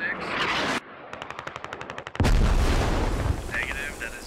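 Artillery fire in the military shooter game Squad: a dense rumbling burst, then a rapid rhythmic train of sharp cracks like automatic fire, followed by a heavy booming blast with a long low roar, loud and close.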